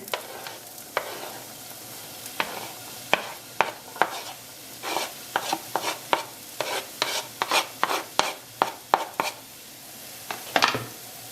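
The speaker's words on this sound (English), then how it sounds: "I've put the oil on now, and I've got the onions, chopped them," Chopped onions frying in oil, stirred with a utensil, giving a steady low sizzle under repeated sharp scraping and clacking strokes against the pan, close and fairly loud, with no talking.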